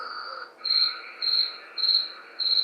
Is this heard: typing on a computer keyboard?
no